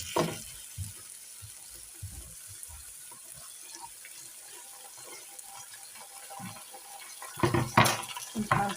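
Tomatoes and green chilies fry in coconut masala for a brinjal dish, a soft continuous sizzle close by with occasional stirring scrapes and a louder clatter near the end.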